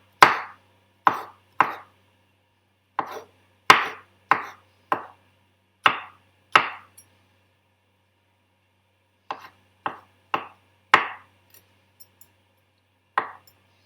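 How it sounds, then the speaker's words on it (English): A knife chopping food very finely on a board, crisp separate chops in short bursts with a pause midway, close and clear with no talk. "And you want them really tiny, as small as you can chop them."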